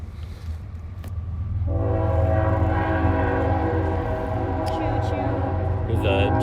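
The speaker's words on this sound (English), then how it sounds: "There's a train going by." A train rolls past nearby, its horn sounding in a long sustained blast over the steady rumble of the cars, heard outdoors in town close to a station.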